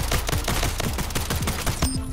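Pistol fire from Splitgate, a quick rapid string of sharp, close, dry shots in an uneven rhythm, loud and alone with no voices.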